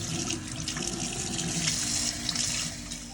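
Tap water pours continuously into a sink, rinsing dirt out of hair after an apple cider vinegar detox, a close steady splashing rush with no talking.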